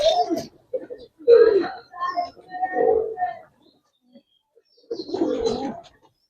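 Giribaz flying pigeons coo in low, throaty bursts, several calls in irregular clusters with short gaps, close by and mixed with people talking.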